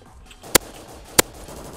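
Two sharp, isolated gunshots crack in Garry's Mod about half a second apart over a quiet background, each short and punchy.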